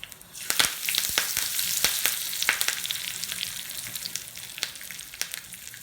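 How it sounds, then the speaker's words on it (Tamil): Mustard seeds, dried chillies and curry leaves frying in groundnut oil for a chutney tempering, a steady sizzle punctuated by sharp popping crackles of bursting seeds, close and fairly loud. "இதில் கடுகு, மிளகாய் வத்தல், கருவேப்பிலை மட்டும் தாளித்து நம்ம சட்னியில் சேர்த்திடலாம்."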